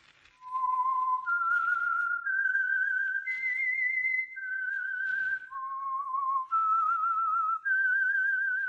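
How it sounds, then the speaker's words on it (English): A single person whistles the theme of the CBS radio mystery program The Whistler, a clear, loud, slightly wavering melody of sustained notes stepping up and down, heard alone without accompaniment. "That whistle is your signal for the Signal Oil Program, The Whistler."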